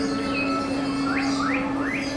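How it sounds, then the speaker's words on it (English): A bird chirps at a Disneyland Christmas decoration display, three rising tweets a fraction of a second apart, heard over a steady hum and busy crowd background. "There's a bird in there."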